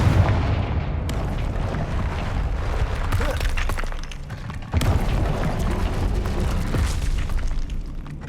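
Fire-blast spell explosions from the Hogwarts Legacy video game, loud booming blasts with crackling debris that fill the whole stretch, with a sharp new burst about a second in and another near the five-second mark.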